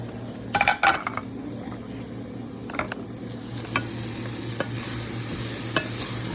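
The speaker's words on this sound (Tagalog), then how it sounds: "Lagyan natin yung ating chicken. Sinangkot siya." Chicken pieces sizzle steadily in oil in a pan while being sautéed for a chicken sotanghon soup, with a utensil scraping and clinking against the pan in a few sharp strokes early on, then a constant frying hiss.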